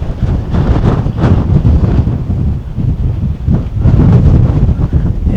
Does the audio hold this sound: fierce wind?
yes